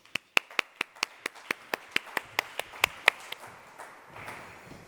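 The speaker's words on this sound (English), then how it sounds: "Let's give a round of applause to Marcello Jenka." A steady run of about fourteen evenly spaced, crisp claps welcomes a speaker at a neuroscience talk, fairly close and sparse like only a few hands, fading into soft room noise at the end.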